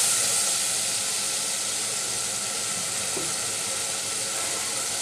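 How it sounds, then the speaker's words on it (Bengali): Chilies fry in a pan for a dish of taro stolons and rohu fish roe, giving a steady, close sizzle with soft hissing throughout and no talking. "আমার মরিচ কষানো হয়ে গেছে।"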